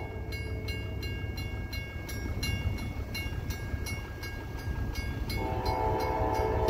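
A freight train led by GE Dash 9 locomotives rolls past, with rhythmic clickety-clack of wheels over rail joints and a low rumble that grows a little louder toward the end.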